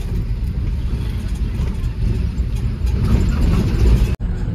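A vehicle rolls through a road underbridge in Bhilai, Chhattisgarh, with a loud, steady low road and engine rumble, then a sudden brief dropout near the end.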